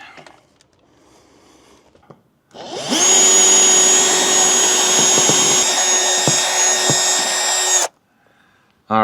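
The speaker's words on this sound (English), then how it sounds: "so we're drilling the last two holes in the seal and in the angle inside" Power drill boring holes through a Tiffin RV bedroom slide seal and the metal angle inside, a loud steady whine held for about five seconds after quiet handling noise.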